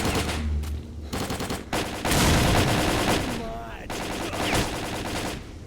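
Automatic gunfire in the video game S.T.A.L.K.E.R., rapid bursts of shots running continuously and loudly over game background noise and a talking voice.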